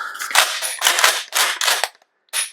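The action of a Huğlu Atrox pump-action shotgun is worked and locks into place in a series of loud, sharp metallic bursts close by, followed by a short pause and one more burst.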